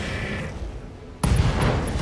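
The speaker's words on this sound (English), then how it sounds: "Ammo explosion." Roguetech mech weapons fire and an ammo explosion in battle: a sudden loud burst at mid-clip of blasting, booming gunfire that stays dense and rumbling to the end, after a quieter stretch of low background rumble.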